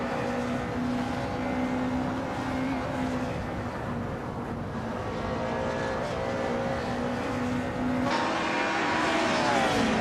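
Race cars in a video game, with a steady engine drone holding a sustained pitch and then rising sharply as the engines rev near the end. The sound is continuous, fairly loud and has no voices.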